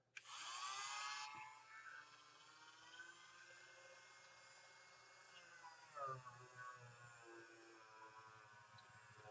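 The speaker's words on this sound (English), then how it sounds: "taking the Dremel, and I've got a standard sanding drum on this." A high-pitched Dremel rotary tool with a sanding drum whirs steadily at close range against a tyre rim, spinning up with a loud burst then settling into a sustained whine with slight changes in load.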